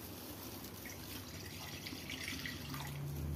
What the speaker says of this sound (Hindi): तो 1 गिलास पानी डाल दिया है, और ये हम अपनी 1 किलो सारी चीनी इसमें ऐड कर देते हैं।